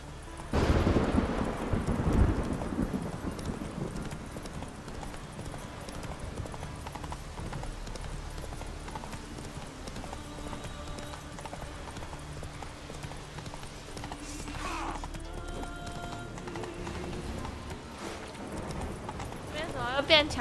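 Hooves of the horse Roach clop steadily in The Witcher 3: Blood and Wine, a rhythmic gallop running under continuous game music and ambience, with a louder thump near the start.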